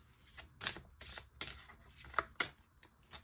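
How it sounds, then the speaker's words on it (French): Tarot cards are shuffled and picked, giving quick papery riffles and flicks in uneven bursts, close and quiet, with no talk. "je vais choisir 3 cartes aussi"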